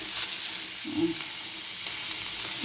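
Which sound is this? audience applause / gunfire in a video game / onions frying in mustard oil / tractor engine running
onions frying in mustard oil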